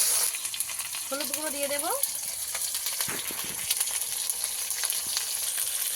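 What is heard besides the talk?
ginger and garlic paste sautéing in a pan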